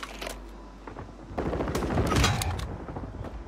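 Automatic gunfire in the video game Warzone, rapid bursts of shots crackling close by with dense overlapping reports, loud and sustained through most of the moment with a brief quieter gap early on.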